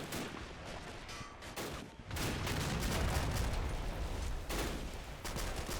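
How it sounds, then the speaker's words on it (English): French artillery fire pounds a ridgeline in a video game battle, a dense barrage of overlapping booms and cracks with sharp bursts, loud and sustained, heaviest in the second half. "French artillery is going to be pounding this whole ridgeline."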